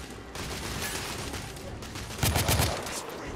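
Rapid blind-fire gunshots in the shooter The Order: 1886, a dense burst of cracking reports over steady background gunfire and game ambience, growing louder near the end.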